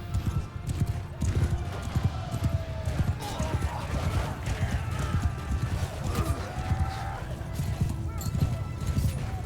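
Horses galloping in battle in the video game Mount & Blade II Bannerlord: a dense, continuous drumming of hooves with occasional whinnies over a loud battlefield din.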